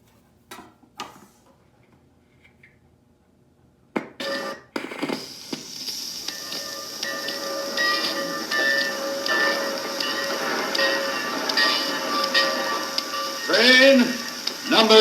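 Train sound effects on a Marx Lionel 78 rpm record played on a Hamilton Electronics school record player, starting with sparse clicks and ticks before steady rumbling, hissing rail noise with surface crackle builds up and keeps going.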